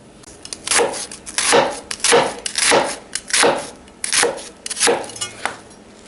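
A knife chops onions finely on a board for channa masala in about eight firm, evenly spaced strokes, each a sharp, close crunch and thud.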